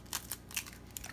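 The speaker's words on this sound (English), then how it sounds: "We're gonna crack our egg in here" An egg is cracked into a bowl with pepper while making hamburger steak, giving a few faint, brittle shell crunches and small clicks spaced irregularly over about a second.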